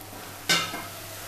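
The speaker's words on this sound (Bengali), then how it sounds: "একসাথে দিয়ে আমি ঘটে দেবো যতক্ষণ না কাঁচা গন্ধটা চলে যাচ্ছে।" Keema and peas with spices stirred in a frying pan: a single short scraping stir with a burst of sizzle, over steady low frying hiss.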